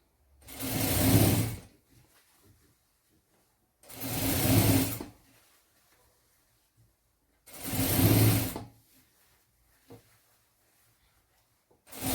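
Electric sewing machine stitching fabric for a small shoe bag, running in three steady bursts of about two seconds each with short quiet pauses between, close and clear with no talking.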